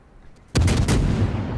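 Naval gunfire in the World of Warships video game: a single sudden heavy boom after a quiet moment, followed by a sustained loud rumbling roll that lingers without fading, no talk.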